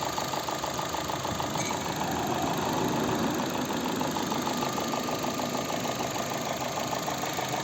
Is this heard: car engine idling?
yes